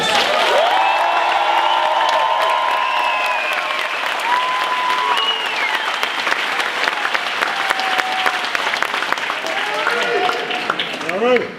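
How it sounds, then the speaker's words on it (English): Sustained, loud applause from a conference audience at a startup week event, dense clapping with cheers and shouts mixed in, holding steady for the full stretch before tapering at the very end. "let's clap it up for the volunteers"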